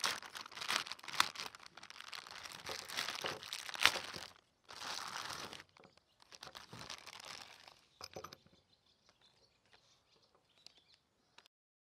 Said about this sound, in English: The first thing I need to do is open the packaging and see exactly what is inside.